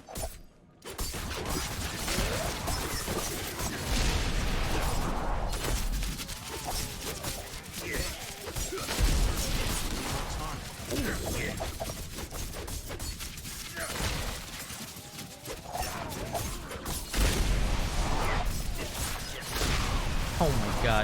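Dense, continuous clash of explosions, impacts and mechanical whooshes from a Diablo 4 Demon Hunter poison multi-shot build, a loud busy mix of game effects throughout with no pause.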